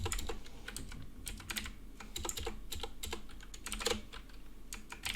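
C++ code being typed on a computer keyboard, quick irregular bursts of close key clicks with short pauses, moderately loud with no talk.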